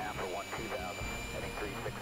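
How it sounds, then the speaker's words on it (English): Air Force One, a jet aircraft on final approach, gives a steady, even engine roar throughout, with voices talking over it. "Air Force One begins final approach."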